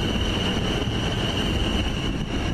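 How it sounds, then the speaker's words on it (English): A Class 444 electric train pulls out of Basingstoke on a Portsmouth Harbour to London Waterloo service, giving a loud, continuous rolling roar with a thin high squeal running over it. "Service from Portsmouth Harbour to London Waterloo just leaving."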